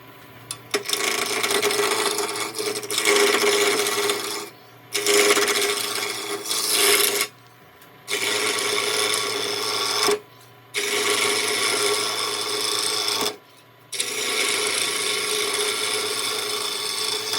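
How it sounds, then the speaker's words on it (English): A roughing gouge cuts a wood blank spinning on a lathe, rounding it for a scratch awl. A loud scraping, rasping roar is broken by four short pauses, with the lathe's motor hum underneath. "I'm using a roughing gouge to round it off to start with"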